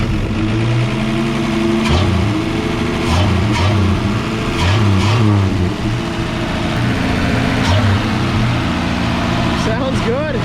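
A 1954 Ford F100 truck engine, abandoned for 39 years, cranks, catches and revs up and down loudly close by, with people talking over it throughout.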